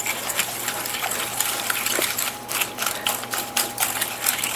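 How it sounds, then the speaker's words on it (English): Buttermilk and brown sugar being whisked together in a bowl, a close, steady run of quick scraping clicks and rattles repeating in a fast, fairly even rhythm, with no voices. "I'm going to whisk this together"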